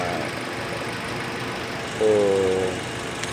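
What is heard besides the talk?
car engine running after radiator cap replacement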